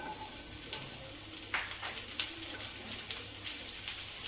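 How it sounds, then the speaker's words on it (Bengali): Flat beans fry lightly in oil in a kadai, making a soft, even sizzle with scattered pops and a few clicks of stirring, heard close up with no talking. "এবার আমি শিমটাও হালকা ভেজে নিচ্ছি"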